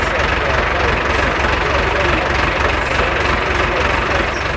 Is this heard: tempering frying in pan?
no